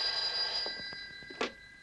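An old telephone bell rings loudly indoors, a steady metallic trill that cuts off near the end with a clunk, while faint voices murmur softly underneath.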